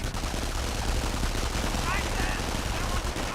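Rapid bursts of twin MP40 submachine gun fire from a Company of Heroes battle, dense and continuous over low rumbling battlefield noise, with a voice talking over the shooting.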